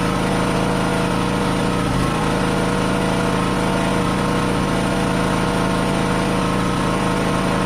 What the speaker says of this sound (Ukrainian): Генератор майже, практично майже не відчуває навантаження.